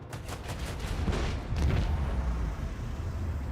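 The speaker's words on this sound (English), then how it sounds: "the explosion actually does damage to me too" An explosion in Warhammer 40,000: Rogue Trader booms through a low rumbling roar, with two heavier bursts near the start and middle that trail off into a sustained low blast texture.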